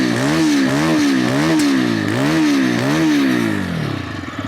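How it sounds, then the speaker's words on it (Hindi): A TVS Raider motorcycle exhaust note, loud and close, with the engine blipped in repeated rising-and-falling revs before it settles back toward idle. "तो एग्जॉस्ट नोट भी आपको सुना देता हूँ, आप सुन के बताइए आपको कैसा लग रहा है।"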